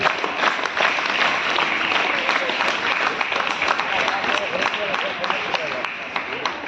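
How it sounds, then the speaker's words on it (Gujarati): Loud, sustained applause from a crowd at a village Independence Day celebration, dense steady clapping filling the whole stretch with a few voices mixed in. "જોરદાર તાળીઓથી વધાવીએ."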